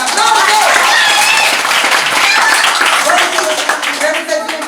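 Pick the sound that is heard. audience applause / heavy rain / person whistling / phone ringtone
audience applause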